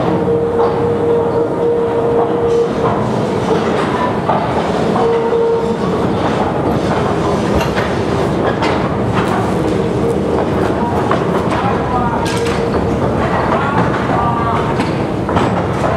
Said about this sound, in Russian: электровоз доставил свинцово-цинковую руду – сырье будущей продукции предприятия